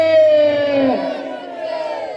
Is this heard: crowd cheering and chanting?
yes